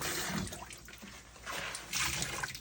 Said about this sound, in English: Just rinse this a couple of times.